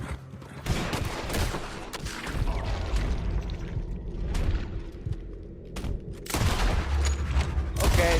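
A gunfight with lawmen in Red Dead Redemption 2 brings a dense, ongoing barrage of gunshots and booming reports, some close and loud, others more distant, with heavy volleys near the end.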